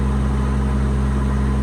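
2019 Kenworth T370 mechanics truck engine idling nearby, a steady low diesel rumble with constant hum and no variation over a short stretch.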